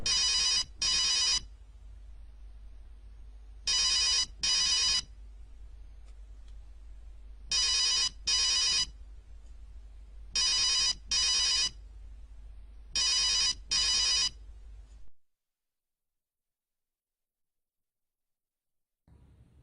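An unanswered telephone keeps ringing in five evenly spaced double bursts, loud and close, before it stops and the room falls silent.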